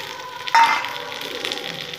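Sliced onions with green and ripe chillies hit a hot pan in a sudden burst of sizzling that settles into a steady, close frying hiss, with no voices.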